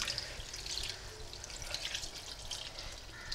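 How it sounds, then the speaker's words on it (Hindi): Water is poured steadily into an egg curry masala in a cooking pot, giving a continuous soft hissing splash with faint sizzling and no talk. "आप उसी हिसाब से इसमें पानी डाल दें"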